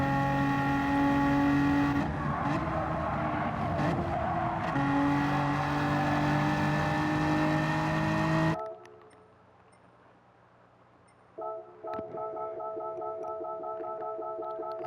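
A BMW M4 Gr.4 race car in Gran Turismo 7 at Interlagos runs on a loud, sustained engine drone, then brakes hard, so the engine note cuts away before a quieter tone returns.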